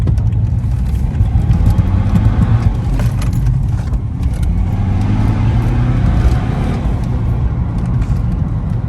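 A stage 2 remapped BMW 120d diesel with a special turbo cruising on the road in everyday driving, giving a steady low engine drone and road rumble from inside the cabin, continuous and fairly loud throughout.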